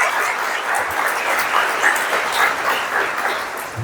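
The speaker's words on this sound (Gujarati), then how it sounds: "એકવાર જોરદાર તાળી મારા બંને." An audience at a Teacher's Day celebration breaks into loud, sustained applause, dense clapping that carries on evenly for several seconds with no speech over it.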